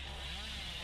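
Chainsaw motor in the Dead by Daylight game droning steadily in a short, continuous burst, a dense buzzing roar with no pauses.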